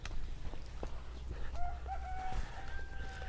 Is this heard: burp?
no